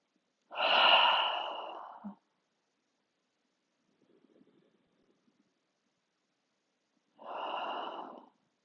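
Slow, audible breathing during a quad stretch: a long breath near the start, a long silent pause with faint rustle, then another breath near the end.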